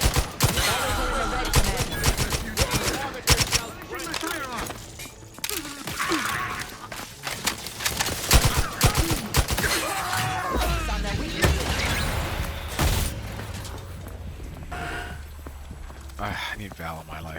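Gunfire in the Outer Worlds 2 video game, with rapid volleys of shots and crashing impacts crowding the scene, mixed with other game sounds and a voice speaking over them.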